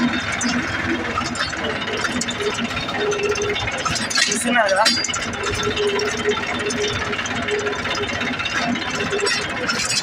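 A tractor engine runs with a steady mechanical clatter and rattle while the tractor drives past fields where deer are running. Someone talks over the engine throughout.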